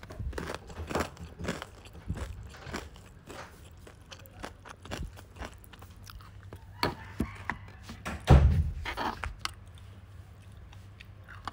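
Crunchy fried chicken eaten close to the mic during a live stream, with a run of crisp, crackly bites and chewing clicks, one louder crunch standing out near the end, and a little faint talk in the background.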